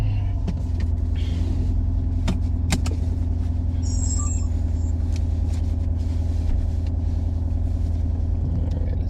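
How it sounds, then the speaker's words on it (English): A 2008 Lexus IS-F with its engine running, a steady low rumble of idle that holds throughout, with a few faint clicks and interior noises over it and no talking. "Start it up."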